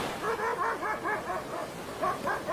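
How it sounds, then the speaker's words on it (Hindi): Dogs on a beach at night bark and yip in a rhythmic run of about eight or nine calls, moderately close, with a short pause before a final few barks; no talking. "कुत्तों की आवाज जरूर आ रही थी"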